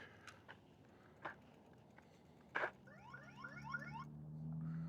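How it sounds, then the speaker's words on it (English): Engwe EP-2 folding ebike's anti-theft alarm emits a rapid series of rising electronic chirps followed by a sustained tone, after a few scattered clicks and handling knocks. "It just gives you the warning alarm."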